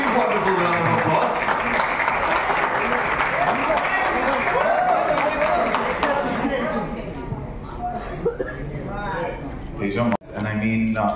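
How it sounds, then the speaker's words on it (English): A large audience claps loudly at the Citadel: Honey Bunny trailer launch event, with dense sustained applause and cheering that fades after about eight seconds into a speaker's voice. "Give a wonderful round of applause."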